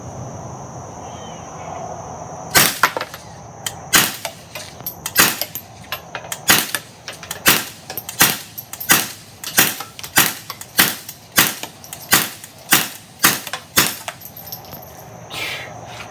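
A suppressed .22 fires a steady string of about fifteen sharp, clipped cracks at roughly regular intervals outdoors at a shooting range, each shot short and dry with a quiet gap between them.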